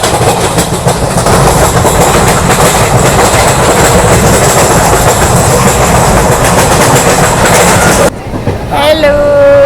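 An Indian Railways train with ICF coaches running on the tracks in heavy rain, a loud, steady rumbling roar with rhythmic clickety-clack from inside, dropping away near the end as a faint whistle-like tone rises.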